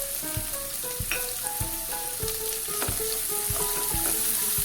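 Capsicum, frozen peas and mixed vegetables sauté in ghee with a continuous lively sizzle, punctuated by regular knocks and scrapes of a stirring spoon against the pan.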